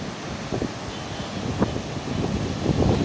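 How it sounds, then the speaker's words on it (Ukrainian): Strong evening wind rushes steadily outdoors on the coast at Da Nang, Vietnam, buffeting the microphone with a low roar that swells slightly louder toward the end. "прям вітер дуже сильний"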